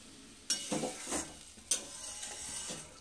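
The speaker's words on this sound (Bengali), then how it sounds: "যতক্ষণ না তেল ছেড়ে আসছে ততক্ষণ পর্যন্ত মশলাটা কষতে হবে।" A spice paste (masala) fries in hot oil and is stirred with a utensil: a steady sizzle broken by a few louder scraping strokes against the pan, close and with no talking.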